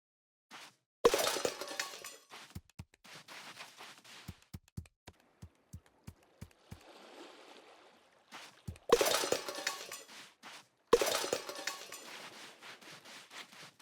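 Glass shattering and clinking in the video game Critter Cove: several loud crashes separated by a run of sharp, evenly spaced clinks and a softer rattling stretch, heard alone without talk.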